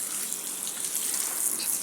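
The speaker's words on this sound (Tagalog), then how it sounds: "Dilig-diligan natin ang ating mga pananim." Water sprays steadily from a hose onto garden plants and freshly prepared planting soil, a continuous loud hiss and splash close by with no pauses.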